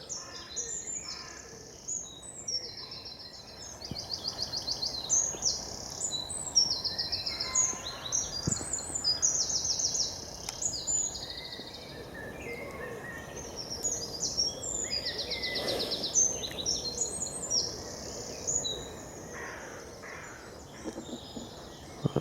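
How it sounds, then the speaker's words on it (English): Woodland birdsong at a wild campsite, with blackbirds, robins, a wren and crows singing at once: a busy, continuous chorus of bright trills and warbles at moderate distance, no talking. "I can hear blackbirds, robins,"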